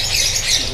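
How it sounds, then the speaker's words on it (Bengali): A lovebird in an aviary gives a harsh, loud squawk, one short burst filling the whole brief moment close to the listener. "এগুলো হচ্ছে লাভবার্ড পাখি"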